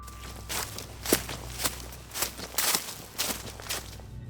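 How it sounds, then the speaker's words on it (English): Heavy, cautious footsteps circle a tent outdoors, a slow, uneven series of about eight close, crunching steps heard alone, with no voices. "The footsteps were too heavy, too cautious, and they circled the tent"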